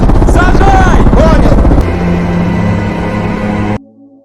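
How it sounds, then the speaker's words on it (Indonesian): Loud, steady rumble of a search helicopter in flight over a forest, heavy and close, with a voice speaking over it at first before the engine noise cuts off. "melakukan pencarian secara serius bersama Phoenix dengan menggunakan helikopter"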